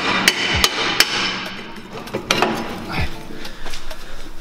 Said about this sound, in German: Jetzt bauen wir die Trommel ab.